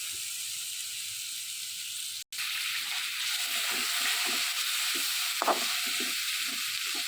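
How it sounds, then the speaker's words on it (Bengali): About a cup of chopped onion with garlic fries in a pan for a small-fish curry, with a steady close hiss and a brief break near the middle. Light stirring scrapes sit under the sizzle, and there is no talk. "প্রায় এক কাপের মতো পেঁয়াজ দিয়ে দিলাম এখন পেঁয়াজ রসুন সবটা মিলে লাল লাল হয়ে উঠুক"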